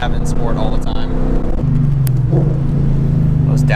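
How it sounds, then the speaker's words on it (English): A Lexus IS F in sport mode downshifts with crisp, aggressive blips, its engine note dropping and settling into a steady, close rumble while a voice talks over it. "Those downshifts sound really nice"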